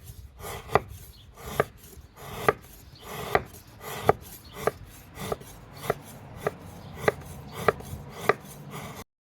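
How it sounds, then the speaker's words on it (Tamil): Jaggery being cut outdoors for sweet pongal, a steady series of sharp knife chops on a hard block, evenly spaced and close, with no voices. "நம்ம சக்கரை பொங்கலுக்கு வந்து வெல்லம் வந்து கட் பண்ணி ரெடி பண்ணி வச்சுக்கலாம் அப்படின்னு சொல்லிட்டு கட் பண்ணிகிட்டு இருந்தோங்க"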